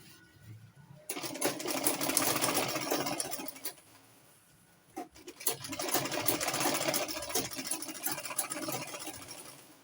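Sewing machine stitching a straight seam on a smocked-waist A-line dress, running in two steady bursts with a brief pause between, a close, buzzing mechanical whir.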